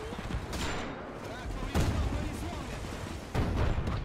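Gunfire in the WWII strategy game Men of War 2 comes as scattered bursts and sharp shots over a rumbling battlefield background, with louder cracks recurring every second or two.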